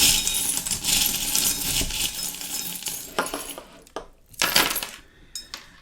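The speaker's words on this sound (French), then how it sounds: "Je vais prendre les breloques pour voir quelles sont les énergies qui vont vous accompagner." Small charms are picked up and jingle together in bright metallic clinks, a busy rattling burst followed by a few separate chinks, close and clear with no talk over them.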